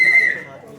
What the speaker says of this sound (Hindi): सीटियां बजनी चाहिए।